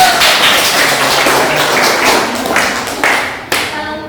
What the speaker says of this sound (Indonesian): Beri aplaus untuk adik-adik